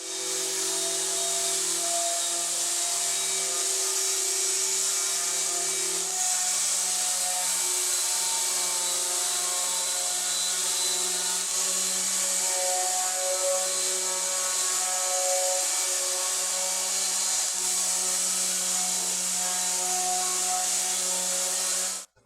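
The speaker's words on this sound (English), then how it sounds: "We've got our sander here hooked up to our dust collector." Power sander connected to a dust collector smoothing pressure-treated boards, a steady loud whirring hiss with a constant motor drone that runs unbroken for about twenty seconds and then cuts off abruptly.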